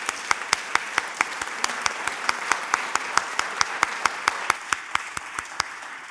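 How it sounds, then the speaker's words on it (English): A small audience claps for a panel on religion in global politics at a warehouse grand opening. The claps are individual and fairly sparse, a quiet, steady patter with distinct separate hits throughout. "give a round of applause for our panel"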